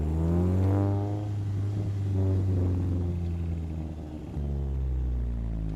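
A Chevrolet idles and revs through first gear around 2,000 RPM, then lifts off the throttle so the exhaust rumbles with a steady low burble and faint pops, loud and close, with no talking.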